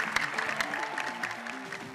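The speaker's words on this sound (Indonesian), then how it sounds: "Berikan tepuk tangan untuk Japro." Fairly quiet applause from an audience at a stadium event for a football club's mini tournament, scattered clapping mixed with background music tones and light crowd noise.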